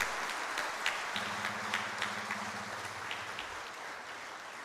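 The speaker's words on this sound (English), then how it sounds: "Let us give yourself a big round of applause." Applause from a ceremony audience gathered for the first batch of ONGC KG 98/2 crude receipt at MRPL, Mangalore, a steady wash of many hands clapping throughout, with a low hum running underneath.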